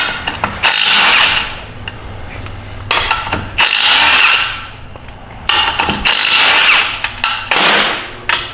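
Impact gun bursts zip bolts out of a ZF5 transmission case from a 1997 Ford F350 teardown: four loud, rising whines of roughly a second or more each, separated by short pauses and faint clinks, with no talking.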